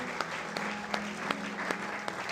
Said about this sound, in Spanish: Una sus bellas palmas y dele aplausos de glorias a Él.